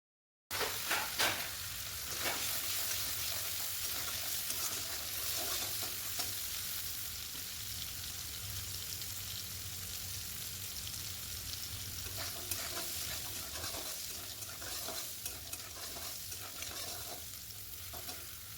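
Chickpeas frying in a pan, a continuous soft sizzle and crackle with brief scraping stirs, steady and fairly quiet throughout, with no voice.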